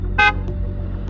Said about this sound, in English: Nice horn.